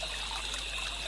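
A running stream trickles and burbles continuously, a soft, even flow of water with a bright hiss and no other sounds.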